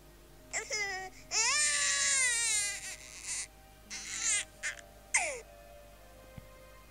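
An infant cries in a series of loud, close wailing bursts, with longer sobs broken by short pauses and a final rising wail.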